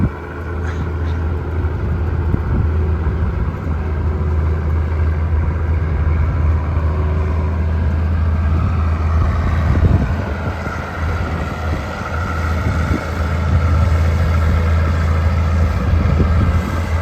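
A Massey Ferguson 625 tractor engine runs at a steady idle, a continuous low rumble heard close and loud with some wind buffeting on the microphone.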